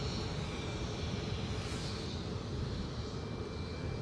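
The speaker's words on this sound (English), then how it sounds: "the Ryanair is off to Madrid" Steady broadband roar of a Ryanair airliner departing an airport for Madrid, heard from a distance as a constant, moderately faint jet rumble with no talk.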